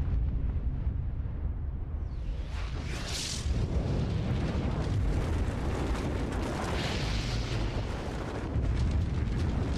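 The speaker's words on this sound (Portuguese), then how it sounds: "não determinar os efeitos de uma explosão nuclear em uma casa ou uma população" Nuclear test detonation wrecking a test house: a sustained, loud roaring rumble with broadband blast noise, swelling in bursts and continuing for about ten seconds with no speech.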